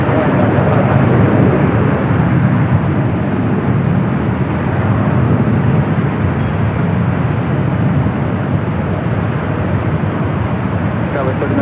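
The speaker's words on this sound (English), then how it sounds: "KLM now heading back to Amsterdam, flight 602, heading up for a north side takeoff." A KLM airliner bound for Amsterdam taking off from the north side runways at LAX, a loud continuous engine roar that holds steady throughout, with talk faintly under it.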